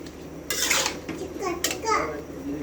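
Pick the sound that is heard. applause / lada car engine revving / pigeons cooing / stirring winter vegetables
stirring winter vegetables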